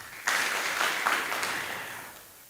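Applause from the audience at a Kapropita Ward MCA candidates' debate, a burst of clapping that starts abruptly, stays steady and then slowly fades out.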